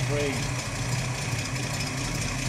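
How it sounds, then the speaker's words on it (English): A steady, low idle from a 1969 classic car engine rumbles evenly throughout, close and continuous, with a brief faint tonal chirp near the start. "look at that motor. That is fantastic. Listen to it."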